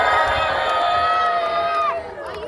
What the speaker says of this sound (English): So let's have a cheer for that.